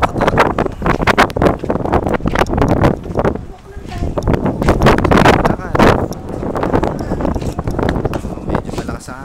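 Gusty outdoor wind buffets the microphone at Souq Waqif, loud choppy bursts of rumble that come and go while people talk over it.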